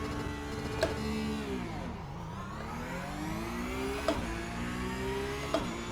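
A race car launches from a standing start in iRacing with dual-clutch paddles held down. The engine revs high, sags briefly as the clutch bites, then climbs steadily again through a continuous close, loud drone.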